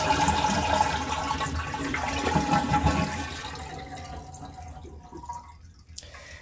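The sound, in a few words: toilet tank draining with valve held open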